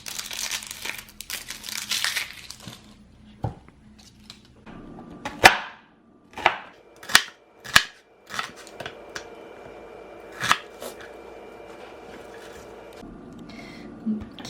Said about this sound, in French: j'ai coupé presque tous mes oignons. Je les ai coupés en lamelles, comme ça.